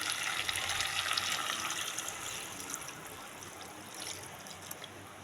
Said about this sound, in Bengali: তো দেখো বন্ধুরা, এতে এবার আমি জল দিয়ে দেবো